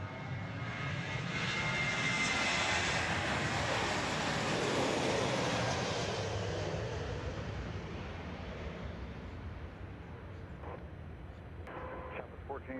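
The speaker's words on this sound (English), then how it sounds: "Let's see if we can get this takeoff for you here." An airliner takes off at Dallas Love Field, its engines building into a broad, sustained roar that swells to a peak and then slowly fades as it climbs away, heard from a distance with no talking over it.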